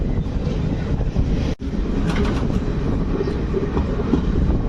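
The 16751 Chennai Egmore–Rameswaram Express rumbling across the Pamban sea bridge, a loud, continuous roar of rolling wheels and rattling carriages with faint clickety-clack, heard close from aboard the train.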